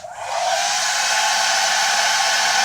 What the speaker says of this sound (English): This is obviously a hair dryer, so I'm going to hold it a little closer.